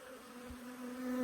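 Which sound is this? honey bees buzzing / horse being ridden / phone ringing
honey bees buzzing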